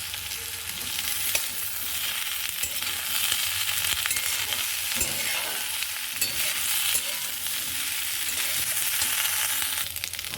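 Potato, beans, drumsticks and kohlrabi fry in a pan with a steady, close sizzle and the scrape of stirring throughout, with no talking.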